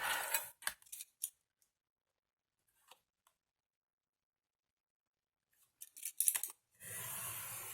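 Paper being cut with scissors in a quiet room, several crisp snipping strokes close by at the start and again near the end, with long silent gaps between them.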